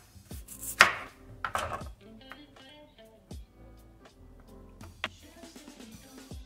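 A knife cuts through russet potatoes on a board, slicing them into medallions with a few sharp, irregular chops spaced apart, fairly quiet and close.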